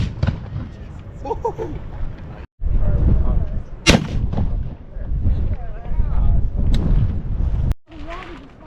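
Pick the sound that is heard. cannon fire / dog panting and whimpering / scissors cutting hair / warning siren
cannon fire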